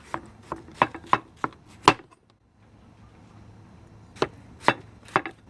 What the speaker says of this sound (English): Kind of like to chop the rind.